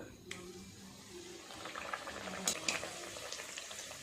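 Naan puri deep-frying in hot oil, a soft bubbling crackle that grows busier toward the end, with a couple of sharper clatters of a utensil and faint speech.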